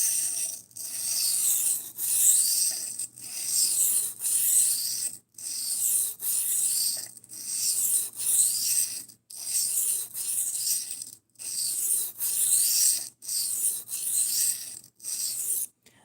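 A knife blade is sharpened on a sharpening stone in steady back-and-forth strokes, a close, soft, gritty rasping repeated about a dozen times in an even rhythm, with no talking.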